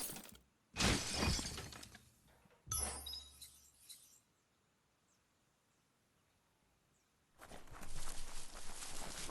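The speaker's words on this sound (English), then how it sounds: "You shouldn't worry about smashing up the box." A box gets smashed in the video game Biomutant: loud crashing bursts of breaking debris with glassy clinks and shattering, separated by a quiet gap, close and without speech.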